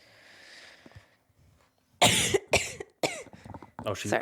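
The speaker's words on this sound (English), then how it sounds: "She's coughing." Faint hiss, then a series of sharp, loud coughs in uneven bursts close up, the last few running together.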